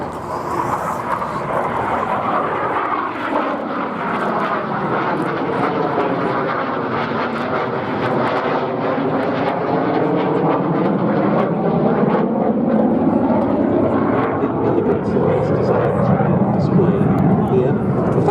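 A Hawker Hunter T7 two-seat jet on a flying display at the Duxford airshow roars loudly overhead, its sweeping tone bending as it passes, with a commentator speaking over the jet noise throughout.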